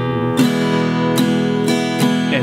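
Acoustic guitar played in a jazzy style through the sleigh bells line of a song, with bass notes and strums: steady chordal strumming with regular accented strokes, close and sustained, with no voices.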